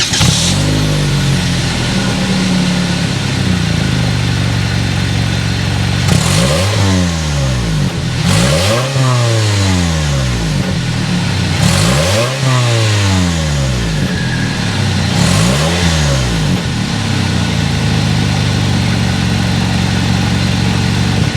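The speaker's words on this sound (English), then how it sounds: "it's not going to be so beefy in the exhaust note, but you're not going to know that until we start it up" A 2022 Toyota Camry SE with its 2.4-liter four-cylinder engine drones steadily through the exhaust, then revs up and falls back four times in a row before settling into an even hum.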